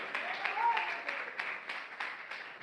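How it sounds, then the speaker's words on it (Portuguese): A church congregation claps in a loose, rhythmic ovation, the claps somewhat distant and moderate in volume, with a voice heard briefly amid them. "A salva de palmas para Jesus de Nazaré."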